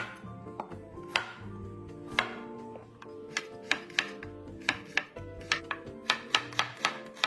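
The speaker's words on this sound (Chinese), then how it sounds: "小红葱100克，切成薄片。" Thin slices of 100 grams of shallots are cut with a knife, giving a steady series of crisp, close taps that quicken partway through, over soft background music.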